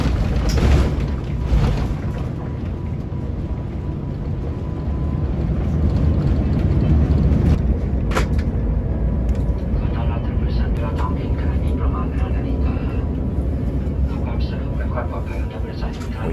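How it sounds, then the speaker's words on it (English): A Finnair airliner lands in Helsinki after a long-haul flight, heard from inside the cabin as a loud, steady engine and air roar with thumps and rattles, and a voice talking over it. "We are arriving in Helsinki after about a 12-hour and 20-minute flight."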